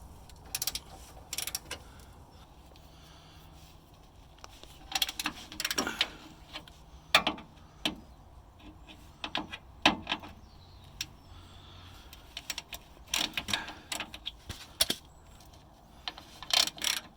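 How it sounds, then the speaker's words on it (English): A ratchet undoes 15mm transfer case skid plate bolts on a 2005 Hummer H2, with repeated bursts of quick, crisp pawl clicks up close, separated by short pauses, and no talking. "Let's see if we can undo the 3 bolts."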